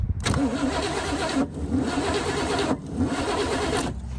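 A 1974 Chevy Monte Carlo engine cranks over on a weak starter with a full-charge battery, three loud, sluggish churning bursts separated by brief pauses, close up and with no speech.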